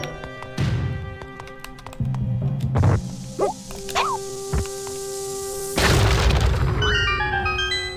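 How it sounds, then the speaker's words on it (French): Bomb explosion in The Legend of Zelda: A Link Between Worlds, several short booming thumps and cracks spread over a few seconds with game chimes, followed by a louder burst near the end, no talk. "On va mettre une bombe,"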